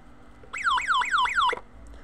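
A cheap portable FM/AM radio sounds its alarm: four quick rising-and-falling electronic warbles in about a second, loud and close, with no voices over them.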